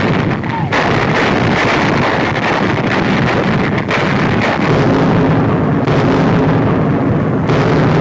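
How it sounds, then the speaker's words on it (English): A 1942 newsreel shows a 50-millimeter anti-aircraft gun firing. The loud, distorted, continuous roar holds repeated booming bursts. "Manning anti-aircraft batteries, they feed shells and fire them with clockwork precision."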